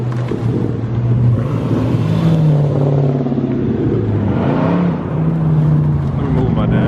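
A Dodge Hellcat's engine rumbling as the car is moved at a car meet, a loud, steady low idle burble with a couple of light throttle rises, while people talk nearby throughout.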